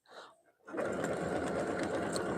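Sewing machine stitching a decorative tulip pattern on a towel, starting after a brief soft sound and running as a steady, close mechanical whir.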